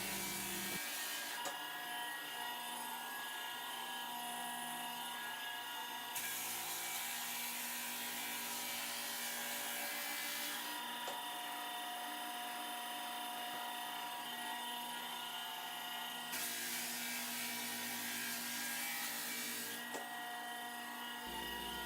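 A floor sander on a wood floor makes a loud, continuous grinding drone throughout, with a harsh, gritty texture that swells and eases in long cycles as it moves back and forth.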